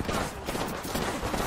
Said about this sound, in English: What am I shooting at? Shooting at an invisible person.